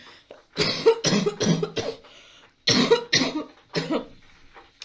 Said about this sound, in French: je recommence à tousser